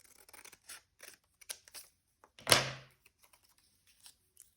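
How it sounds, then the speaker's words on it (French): Scissors cut through a paper sewing pattern for a blazer: a series of soft snips and paper rustles, then one louder crisp cut with a thud, quiet and close. "On vient découper."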